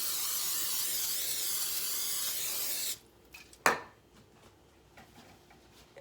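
Cooking spray hisses loudly and steadily for about three seconds as a 9x13 baking pan is coated, then stops. A single clatter of the pan and faint handling noises follow.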